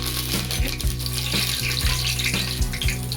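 Mustard seeds, cumin and curry leaves sizzling in a large spoonful of hot oil for Maharashtrian batata usal: a loud, constant crackling hiss with sharp pops and a few clinks of a spoon against the pan.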